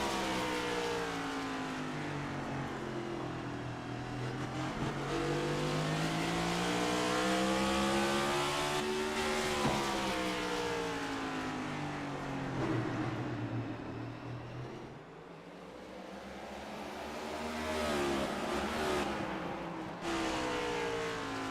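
Stock race cars thunder around the short oval at Martinsville in an Xfinity Series race, engines roaring loud and continuous as a pack runs nose to tail, pitch rising and falling through the corners with a brief dip mid-lap.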